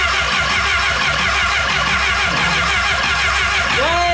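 A BMW K100 motorcycle engine on a café racer build turns over on its starter motor after a starter fix, giving a loud, continuous mechanical churn and roar that fills the whole stretch, close up.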